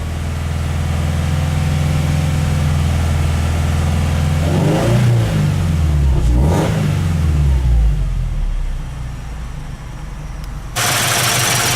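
A Toyota 86 engine runs steadily just above 2,000 RPM in a home driveway after an oil change. The loud, even hum rises and falls briefly midway, then settles again.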